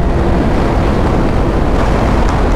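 Roaring wind buffeting the microphone while riding a 2008 Suzuki GSR 600 naked motorcycle on Michelin Road 5 tyres, a loud, constant broadband rush with no pauses and no talking.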